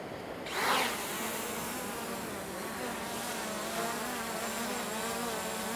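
A constant high-pitched buzz of a Ruko F11 GIM 2 drone's small spinning propellers hovering steadily in strong wind, fairly faint, with wind rushing underneath and no talking.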